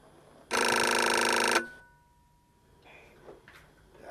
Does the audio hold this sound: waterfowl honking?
no